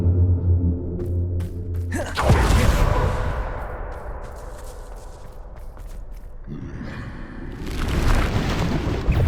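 In the Hogwarts Legacy video game, a Bombarda spell erupts as one heavy booming explosion with a long rumbling tail, followed by scattered impacts and a second surge of rushing magical noise.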